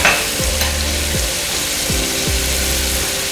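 Onion and garlic sizzling and frying in butter in a pan while string beans are stir fried, a steady close crackle with repeated stirring scrapes roughly every second.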